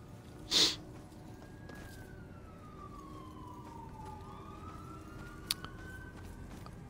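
Police siren in the video game Murdered: Soul Suspect, a faint distant wail slowly rising and falling over a quiet background, with a brief sharp sound near the start.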